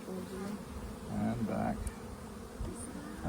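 Honey bees buzz around an open hive frame as a dense, steady hum, close and moderately soft, with a few individual bees droning louder as they pass near.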